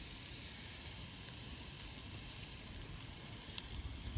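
Onion and carrots sizzle in a hot Dutch oven over a dying Solo Stove fire, a steady quiet hiss with faint crackles and pops throughout, no talking.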